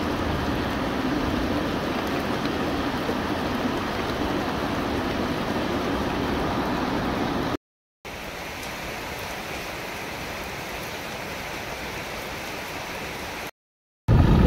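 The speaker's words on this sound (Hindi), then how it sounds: "देखो गाइस, बहुत तेज बारिश हो रही है" Heavy rain pours down steadily in a dense, hissing wash, broken by two short silent gaps.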